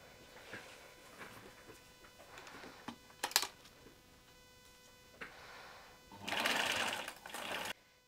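Sewing machine zigzag stitching the hems of sweatshirt fabric sleeves for a flutter sleeve dress, with short bursts of stitching and handling noise early on, then a loud sustained run of needle chatter near the end.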